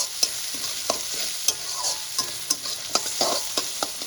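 Ginger, garlic and green chilli paste frying with browned onions in a pan, making a steady sizzle with regular spatula strokes tapping and scraping roughly every half second, close and alone.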